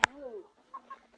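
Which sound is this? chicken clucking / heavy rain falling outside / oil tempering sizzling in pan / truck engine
chicken clucking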